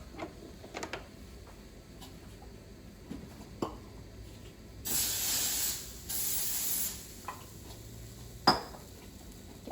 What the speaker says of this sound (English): don't forget to spray with your nonstick spray so your Mickeys will pop out just right.